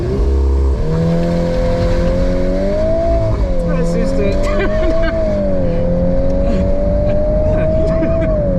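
A VW Golf R Mk8 launches hard down the track at Goodwood Motor Circuit using launch control, its engine roaring loud and continuous through rising gear pulls, with a voice speaking over it.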